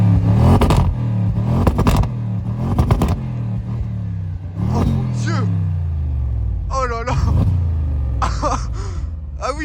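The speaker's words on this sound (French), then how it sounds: "Voici le petit cold start." Audi RS6 C7 Phase 1 estate firing up from cold, its engine revving in loud repeated bursts that settle into a steady idle, close by, with short rises in pitch and people talking over it.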